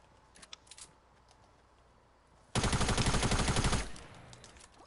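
Gunfire in a video game, a rapid burst of evenly spaced shots at close range that lasts about a second and follows a few faint clicks and taps.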